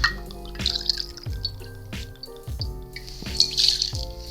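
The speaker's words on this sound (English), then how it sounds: "We're gonna do 2 ounces of our Pierre Ferrand cognac." Pierre Ferrand cognac poured into a small metal shaking tin for a shaken Sidecar cocktail, a close series of light liquid drips and splashes with soft clinks, heard alone with no talk.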